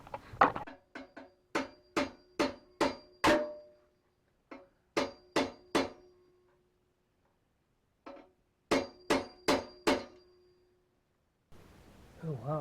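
A two-pound sledgehammer strikes metal in a series of sharp, ringing blows, delivered in quick bursts of three to five hits separated by pauses, close and loud, with no talk.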